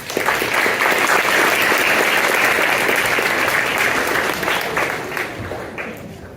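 Loud, dense audience applause fills a pitch competition room, holding steady for several seconds before tapering off toward the end.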